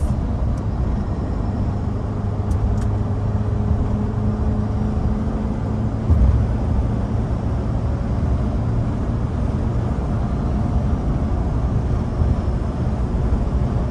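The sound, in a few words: 1996 Mitsubishi Pajero Jr engine revving and shifting up to fifth gear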